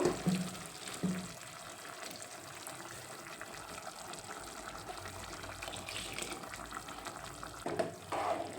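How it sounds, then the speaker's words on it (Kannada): Water poured into a ground masala in a pan, then a soft bubbling simmer with occasional clanks of stirring, fairly quiet and close, with no talk. "ನೀರು ಆ್ಯಡ್ ಮಾಡ್ಕೋಬೇಕು"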